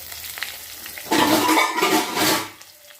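Onions hit hot oil with cinnamon and cloves for a mushroom curry, bursting into a loud sizzle after a quiet moment, then the frying hiss settles and fades.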